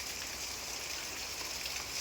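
Steady monsoon rain pouring down in the Konkan countryside, a continuous dense hiss of falling water, even and unbroken, fairly faint with no voices.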